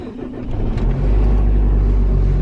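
Car driving along, with a steady loud low engine and road rumble close inside the cabin that builds slightly and then holds constant, with no voices.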